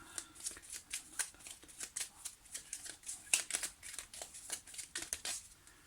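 Tarot cards are shuffled by hand in a quick, steady run of crisp riffling flutters and slaps, close and clear, with no talking over them.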